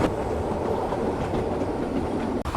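Heard from on board, a European mountain railway train crosses the Abramovo summit point at about 1200 metres with a dense, steady rumble and rhythmic wheel clatter, broken by one brief dip near the end.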